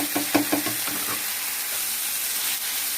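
Chopped carrots hit a pan of softened onions for a South Indian carrot poriyal and get tossed, with a few clattering scrapes early on, then a steady, even sizzling hiss with no talking.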